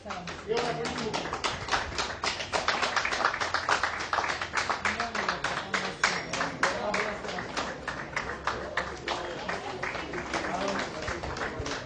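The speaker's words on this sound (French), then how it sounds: "C'est parti, on applaudit tout de fort." A wedding ceremony audience claps together in a steady, rapid patter that rises and holds at moderate loudness, with voices audible underneath.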